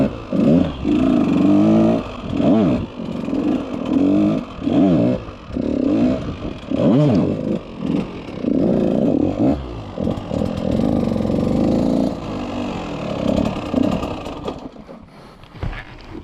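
Dirt bike engine on an enduro bike revs hard in repeated bursts as the rider works the throttle and clutch through a circle wheelie, loud and close, easing off and fading near the end.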